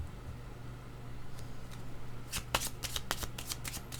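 Tarot cards are shuffled and drawn by hand, a soft riffle building into a quick run of crisp flicks and snaps, close and quiet over a low steady hum, with no talk.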